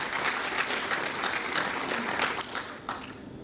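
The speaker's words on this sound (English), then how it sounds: "Let's clap." An audience at a Lüderitz community event claps together in a dense, steady round of applause that thins slightly toward the end.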